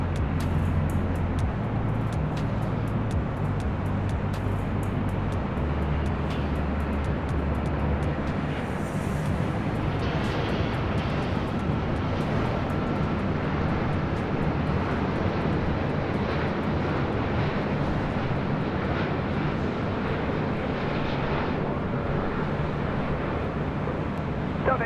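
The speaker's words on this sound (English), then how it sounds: "Air France coming in from Paris. It's a 777-200 ER." A heavy Air France Boeing 777-200ER jet arriving at LAX produces a sustained, broad jet engine roar with a deep rumble, steady and moderately distant throughout, with no one speaking over it.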